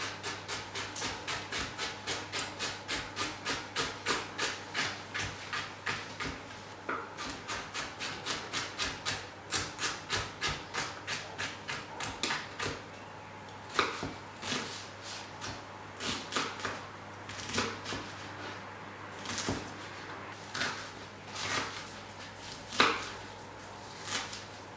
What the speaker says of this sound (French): on va commencer à tailler nos carottes en mirepoix